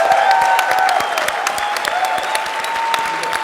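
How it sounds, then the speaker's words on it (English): Loud, dense applause from a conference audience for a panel at a closing plenary, sustained clapping throughout with faint voices mixed in. "Can I get an enormous round of applause for this amazing panel right now?"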